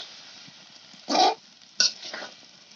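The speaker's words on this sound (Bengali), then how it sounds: "এখন আমি সবজিগুলো নেড়ে চেড়ে দিব ভালো করে।" Vegetables with dried fish being stirred in a pot over a clay-floored mud kitchen fire, giving two short, loud scraping bursts against a low background sizzle.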